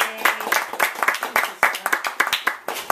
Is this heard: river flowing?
no